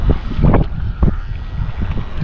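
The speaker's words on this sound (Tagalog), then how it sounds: "Medyo mahangin po" Strong gusty wind buffets a small fishing boat on open water, giving a loud, low rumble with several sharp blasts in quick succession, and no voices can be heard.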